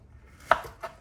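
A knife cuts through plantain on a board with two quick close chops, the first sharper and louder than the second.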